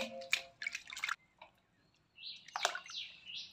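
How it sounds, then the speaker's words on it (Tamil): Murrel fish rinsed in water gives intermittent splashes and drips, a few bursts of sloshing with quiet gaps between, close and fairly soft. "மீன் நல்லா சுத்தமாக அலசி எடுத்துக்கலாம்."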